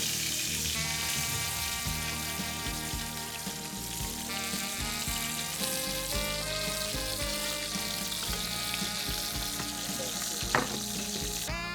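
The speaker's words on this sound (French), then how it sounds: "Faites-y dorer les morceaux de cabillaud." Pieces of cod browning in hot oil in a non-stick pan give a steady, close sizzle throughout, with tonal music playing underneath.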